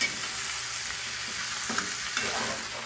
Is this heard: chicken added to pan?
yes